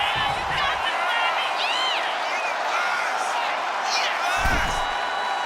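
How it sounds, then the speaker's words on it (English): Arena crowd in the wrestling video game WWE 2K25 roaring steadily as Jade Cargill draws a big reaction, with whoops and cheers rising over a constant loud din and a commentator talking over it. "Cargill drawing a big reaction from the crowd"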